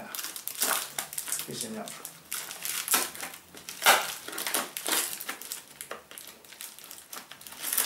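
A knife slices open the cardboard packaging of a Zalman gaming keyboard with a run of crinkly, scratchy cutting and tearing noises. Someone speaks Spanish briefly over the work.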